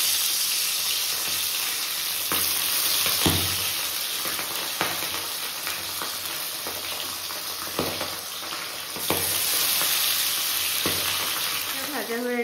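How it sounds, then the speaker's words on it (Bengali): Salted, turmeric-rubbed pabda fish fry in hot oil in a home kitchen, a steady close sizzle that runs throughout with occasional clatter and stirring knocks. "এবার মাছগুলোকে ভেজে নেব।"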